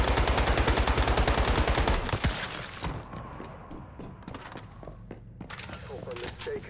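Enemy sniper and rifle fire in the survival shooter Once Human, a loud rapid volley for about two seconds, then scattered fainter shots and impacts amid game sounds.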